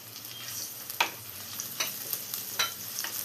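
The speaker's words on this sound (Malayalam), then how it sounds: "ഇനി ഇതിലോട്ട് നമുക്ക് 1 ടേബിൾ സ്പൂൺ ഇഞ്ചി വെളുത്തുള്ളി ചതച്ച് വെച്ചതും 2 പച്ചമുളകും കൂടെ ചേർത്ത് കൊടുക്കാം." Onion sautés with crushed ginger, garlic and green chillies for fish peera, a steady close sizzle and frying crackle broken by a few sharp spoon scrapes and taps against the pan.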